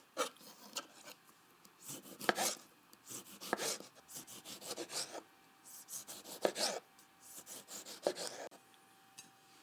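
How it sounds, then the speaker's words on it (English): A knife slicing tomatoes on a board for an antipasto platter, heard as soft, close, repeated rasping strokes in irregular bursts, fairly quiet with no talking. "Next, slice up the tomatoes and set aside."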